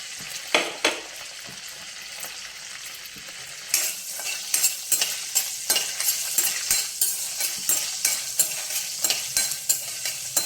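Mustard seeds, cumin and green chilies sizzle in hot oil as a tempering for hotel-style coconut chutney. A close, steady crackle gives way to rhythmic spoon scrapes and clinks that repeat regularly through the second half.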